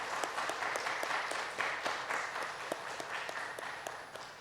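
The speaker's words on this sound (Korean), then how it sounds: "여러분 힘찬 응원의 박수 한번 했으면 좋겠습니다" A church congregation at a Sunday morning service claps together in sustained, even applause that carries at moderate volume through the hall and fades slightly at the end.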